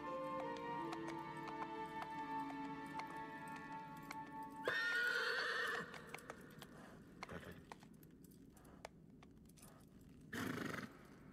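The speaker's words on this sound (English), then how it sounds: "Oh, it's a tall horse." A horse in the video game Shadow of the Colossus whinnies and clip-clops over a layered game soundtrack, with a louder burst of sound about midway and another near the end.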